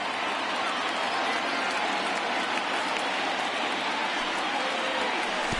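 Stadium crowd of over 30,000 in MLB The Show 19 rising to its feet, a steady dense roar of cheering and applause that holds at even loudness throughout.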